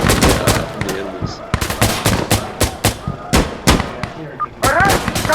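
Rapid automatic gunfire in the shooter game Insurgency Sandstorm, loud and close, with dense bursts of shots and a few gaps between volleys; voices may be faintly present under the shooting.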